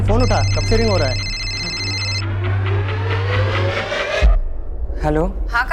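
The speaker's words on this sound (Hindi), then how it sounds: "फोन उठा, कब से रिंग हो रहा है?" A telephone rings at home in a crime drama with an electronic trill that repeats for about two seconds. Voices talk over it and around it, and a vehicle-like engine rumble runs underneath.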